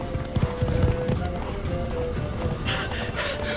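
Hooves clip-clop steadily as the horse Roach runs in The Witcher 3 video game, a continuous rhythmic gallop in a busy mix with other game sounds and a voice over it.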